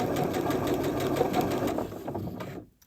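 A domestic sewing machine runs steadily, stitching a seam through two lined-up fabric edges, with a close, even mechanical whirr that slows and cuts off near the end.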